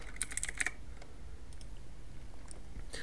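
Quick light keystrokes on a computer keyboard, a short burst of clicks at the start followed by a few scattered taps, close and quiet with no voices.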